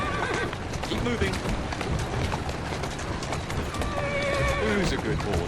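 A horse in Assassin's Creed Syndicate whinnies twice over steady clip-clopping hooves, the neighs rising and falling clearly near the listener with ambient game noise beneath.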